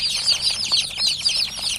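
Dense chorus of high-pitched chick peeping, rapid and overlapping, close and steady for the whole moment.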